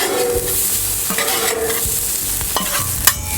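Onions fried on a Blackstone griddle, turned with a spatula: steady close sizzle throughout with scattered scraping clicks and a sharper metallic scrape near the end, no talking.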